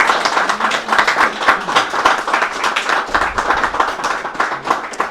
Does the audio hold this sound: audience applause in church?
yes